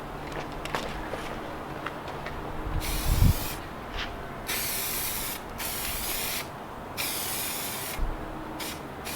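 An aerosol can sprays satin black paint onto car drive shafts from an Escort Cosworth in bursts of loud close hissing, each lasting about a second, separated by short gaps, with faint shuffling movement in between.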